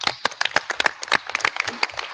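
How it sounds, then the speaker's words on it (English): Clapping from an audience at an IETF conference plenary, a fairly sparse crowd where individual claps stand out as sharp, uneven hits. "So I'd like to give you a round of applause again for everything you've done, Alvaro."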